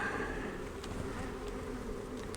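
A dense, steady drone of many honey bees buzzing around an open hive during a spring inspection, a continuous hum with occasional louder passes of individual insects.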